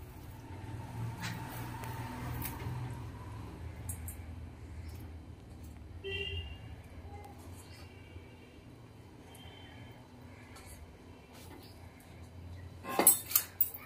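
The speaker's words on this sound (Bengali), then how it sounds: "এবার ভেজে রাখা রুই মাছটা দিয়ে দেবো ঝোলের মধ্যে।" Fried rui fish goes into a simmering pot of thin curry with potatoes and bori: quiet clinks and scrapes of a utensil against the pot, then a brief louder clatter near the end.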